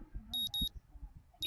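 An alarm clock in the Katawa Shoujo visual novel beeps in two quick high-pitched bursts, pauses, then starts a third burst, with faint low murmuring underneath.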